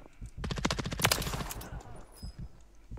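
Rapid machine gun bursts in the Warzone video game, a dense volley of sharp repeated shots followed by scattered fainter fire and echo.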